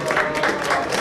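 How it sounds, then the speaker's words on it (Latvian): Brief applause from a crowd gathered at a zoo giraffe enclosure, a short burst of clapping heard up close. "urā, aplausi žirafiem, kas izturējuši šo ģenerālu mēģinājumu"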